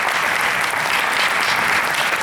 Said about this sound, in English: If you clap louder, I can take some water. Keep clapping.